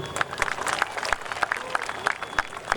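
Audience applause at the Kanakagiri festival mimicry show, a steady patter of many hands clapping close by with scattered louder claps throughout.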